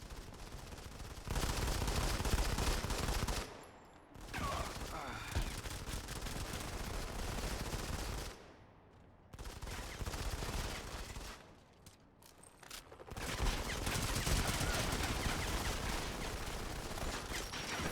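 Rapid bursts of automatic gunfire in the mobile shooter Modern Combat 5, sustained volleys separated by short silent gaps, loud and close throughout with faint mechanical clicks between bursts.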